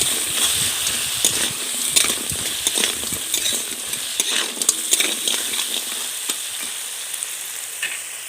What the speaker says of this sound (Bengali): দিয়ে একটু নেড়ে চেড়ে ভালো করে ভাজা করে নিচ্ছি।